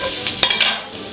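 Steak, cheese and onions being flipped and turned in a hot pan, a soft scrape and a couple of quick clatters over a steady frying sizzle, close and brief.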